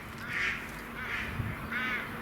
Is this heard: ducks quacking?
yes